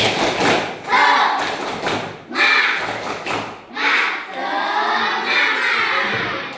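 A class of schoolchildren performs a rhythmic spirit clap in a classroom, loud bursts of clapping and thumping in repeated patterned groups, with voices chanting along.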